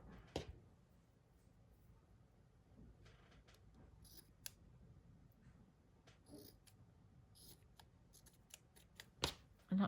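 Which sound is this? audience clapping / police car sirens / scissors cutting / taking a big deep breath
scissors cutting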